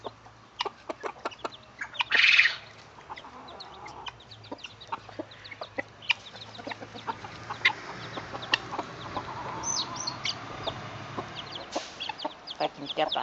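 A mother hen softly clucks among her new chicks, with scattered peeps and clucks close by, one louder squawk, and outdoor farmyard background.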